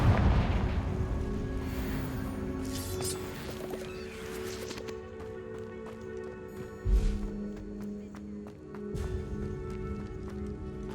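The Confringo spell goes off in a wizarding video game: an opening deep booming blast, then ringing magical tones, another low thump partway through and a further rumble near the end.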